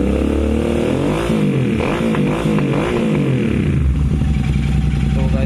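A Royal Enfield GT 650 motorcycle fitted with an AEW 103 exhaust revs loud and close at around 4000 RPM, a sustained rumbling roar with rising and falling engine sweeps through the middle and no talking.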